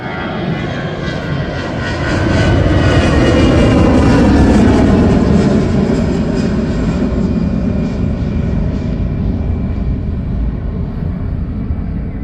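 An aircraft on the Calicut Airport runway at night fills the air with a loud, steady engine roar that swells slightly early on and then holds unbroken.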